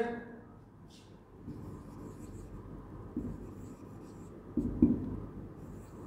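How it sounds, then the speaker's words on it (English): A teacher writes points by hand during a science lesson, with faint scratchy strokes and a few soft taps, quiet and close in a still room with low murmuring in the background. "I am writing the points by my own"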